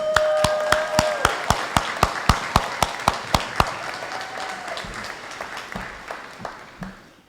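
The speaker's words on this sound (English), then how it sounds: "I'm going to ask all the graduates to stand up, turn, and give the faculty a huge round of applause." Graduates at a Hocking College summer commencement give the faculty a round of applause, heard here as a regular series of sharp, evenly spaced claps that gradually fade over a hall ambience, with a brief tone early on.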